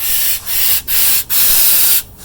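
Tap water blasting through the heater core of a Mazda B2000 pickup comes as a loud, steady hissing spray, cut by three brief pauses, close and continuous with no talking.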